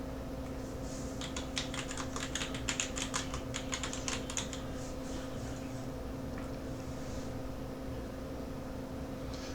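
Quick bursts of keyboard tapping clatter for a few seconds, then stop, over a low steady hum.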